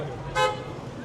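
A single short car horn toot sounds over steady background noise, with no other distinct sounds.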